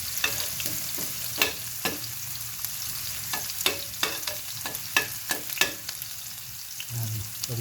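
Garlic and onion sizzle in hot oil for a Bicol-style sautéed shrimp paste with chili, with repeated scraping stirs of a utensil against the pan over a steady frying hiss.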